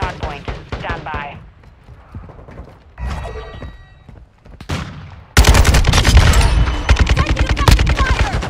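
Bursts of rapid gunfire in a Call of Duty Hardpoint multiplayer match, quiet and sparse at first with mechanical clicks, then erupting into loud, sustained automatic fire for the final few seconds, with voices heard early on.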